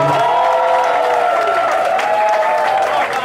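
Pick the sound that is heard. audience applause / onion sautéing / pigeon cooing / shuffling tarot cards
audience applause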